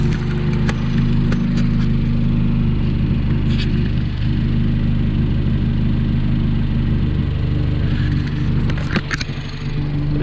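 A turbocharged Honda CR-Z engine idles steadily just after its first start, a loud, continuous mid-pitched drone with faint ticks and clicks on top and no talking.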